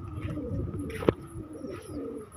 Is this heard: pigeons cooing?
yes